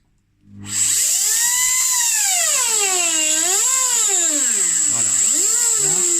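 Dental turbine drilling at 45 degrees into a stone, spinning up to a piercing high whine that wavers and bends in pitch as pressure and circular motion change, loud and close.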